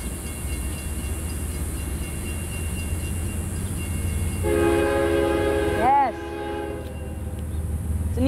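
A CSX freight train led by an ES44 locomotive rumbles steadily past at Folkston, then a loud multi-tone horn blares and bends in pitch as it goes by, fading while the rumble continues.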